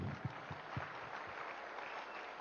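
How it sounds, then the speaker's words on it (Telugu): Audience applause at a Dhyanamahayagam meditation gathering in Tirupati, heard as a steady wash of clapping with a few sharper claps near the start, moderately distant and not very loud. "ఒకసారి వీళ్ళకి చప్పట్లు కొడదాం."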